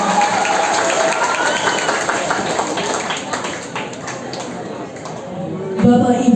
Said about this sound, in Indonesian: Sekali lagi beri tepukan yang meriah untuk Narsi SMA Negeri 1 Jalabong